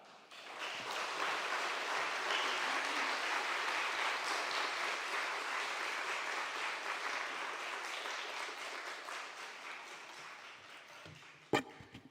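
A church congregation claps to welcome a missionary to the front, a broad sustained wave of applause that swells quickly, holds for about ten seconds, then fades, ending with a sharp knock.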